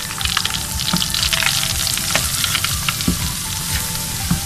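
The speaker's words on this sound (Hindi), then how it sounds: "और ये अब मैंने इसे बहुत हल्की आंच पे से सूजी को भूनना है" Semolina roasts for halwa in a pan over very low heat, giving a continuous soft frying hiss with light scraping from stirring throughout. No one speaks.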